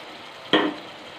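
Ginger paste dropped into a hot pan of green chillies gives one sudden close sizzle that flares and then settles into a soft frying hiss over quiet kitchen background.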